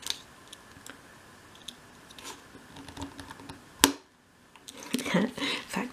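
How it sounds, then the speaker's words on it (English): A cocktail stick rolled along a work surface while being cut: soft scattered clicks and scrapes, one sharp snap of the blade through the wood, then rustling handling noise, with faint speech. "So again, roll it along your work surface and cut at the same time."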